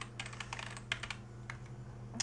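Rapid keystrokes on a computer keyboard as names and job details are entered into form fields, an uneven run of close, crisp clicks with a steady low hum underneath and no talking.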